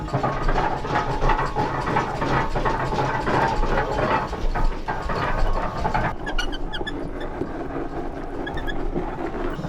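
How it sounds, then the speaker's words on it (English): A 1908 Dolbeer steam donkey, a wood-fired steam logging machine, runs with a loud, steady mechanical clatter and churning hiss, with ratcheting, gear-like rattles that shift near the end. "The machine we have behind us is a 1908 Dolbeer steam logging machine"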